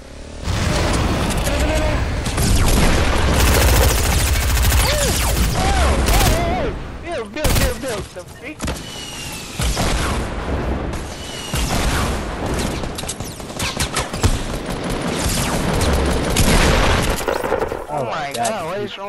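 Sustained gunfire in a shooter video game, loud and dense rapid bursts that barely pause, with a short lull in the middle before the shooting resumes, while players talk over it.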